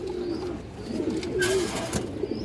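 Pigeons in a loft setting cooing softly, low repeated coos close by over a steady background hum, with a brief brighter burst near the middle.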